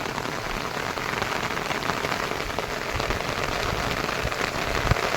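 Heavy rain pouring down steadily as a dense, continuous hiss of drops hitting surfaces, loud and unbroken, with no talking.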